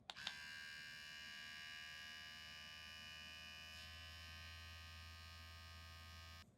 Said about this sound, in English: This is what the Meridian trimmer sounds like.